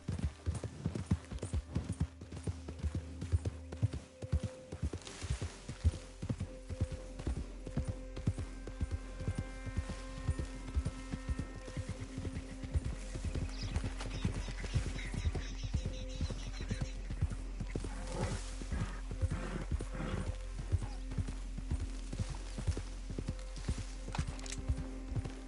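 Horse hooves clip-clop at a steady gait in the video game Red Dead Redemption, a quiet, continuous rhythmic patter of hoofbeats with occasional faint snorts.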